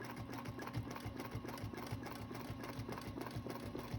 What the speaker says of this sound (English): And then I'm going to start stitching, and it's going to give me a nice waving line.